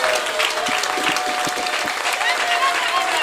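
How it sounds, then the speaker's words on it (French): Church congregation applauding and cheering during a worship service, a dense wash of clapping with raised voices and shouts mixed in, loud and continuous throughout. "donner une acclamation au Seigneur"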